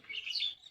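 Bulbul perched in a pomegranate tree giving a short, bright chirping call, close and clear in one brief phrase with no talk.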